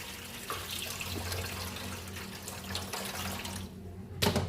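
Water pours steadily from a pot of rinsed rice into a kitchen sink, a continuous close splashing gush that ends in a brief louder splash.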